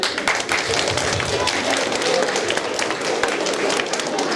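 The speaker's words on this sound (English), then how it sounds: "Give ourselves a clap." A crowd claps together in a dense, continuous burst of applause lasting several seconds, loud and steady throughout.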